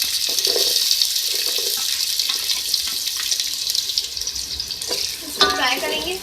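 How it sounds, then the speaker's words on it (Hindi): Two sliced medium onions fry in hot oil with a loud, dense sizzle, stirred now and then with soft scraping; near the end a brief burst of bubbling rises over the frying. "सबसे पहले ऑयल में मैं ऐड करूँगी 2 मीडियम साइज़ प्याज स्लाइस में।"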